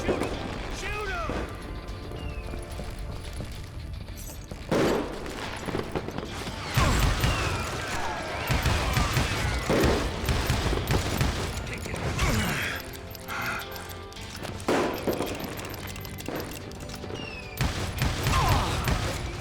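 Gunfire in the Call of Juarez: Gunslinger western shooter, with irregular loud bursts and crashes over clattering game effects and music, and a voice talking over much of it.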